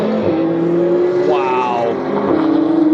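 A Ferrari 599XX hypercar engine roars through California mountains, a loud, close, rising wail that climbs sharply, drops on a shift and surges again within a few seconds.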